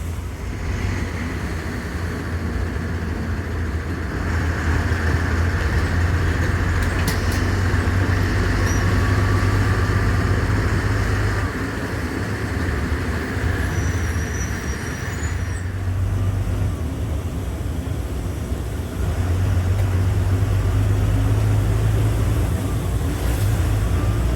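Road traffic in a town in Tamil Nadu, a steady loud rumble of engines with low droning vehicles passing and a constant background roar, no talking.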